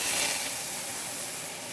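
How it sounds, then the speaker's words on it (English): Water poured into a hot pan to steam venison dumplings under a bowl gives off a loud, steady, broadband hiss and sizzle that stays constant throughout, with no talk. "Then we're gonna pour some water in there and cover it with a bowl, and we're gonna steam them."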